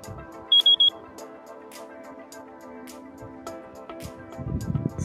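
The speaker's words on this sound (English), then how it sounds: "it's definitely beeping" KingSong S22 electric suspension unicycle sounding a short burst of rapid high-pitched low-battery beeps near the start, over steady wind and riding noise outdoors in the sun.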